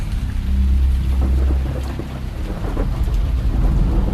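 Heavy rain and thunder sound effect in a radio horror drama: a loud, steady wash of downpour with deep rumbling thunder swelling and fading underneath, no voices.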